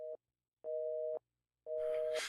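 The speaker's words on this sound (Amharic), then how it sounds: "ይኸውልህ ስልኩን ቢዚ አድርገውታል።" A telephone busy signal sounds as three evenly spaced tone pulses, clear and close, with some rustling noise over the last beep.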